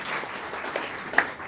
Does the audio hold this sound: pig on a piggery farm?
no